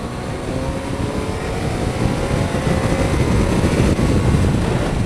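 A Triumph Tiger 800 XCx motorcycle engine gives a loud, steady drone with a rumbling low end, continuous and close, rising slightly in intensity, with no talking.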